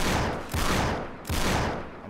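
Gunfire in the video game Uncharted 3: Drake's Deception, loud and dense, with two sustained bursts of rapid shots, the second starting about a second after the first.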